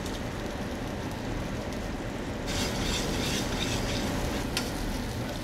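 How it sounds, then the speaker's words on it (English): Salmon fillet searing in a hot restaurant pan, a steady close sizzle with a brief louder crackle partway through. "Salmon is now searing until it gets a nice golden color."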